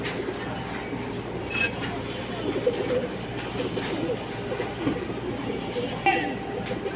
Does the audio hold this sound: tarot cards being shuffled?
no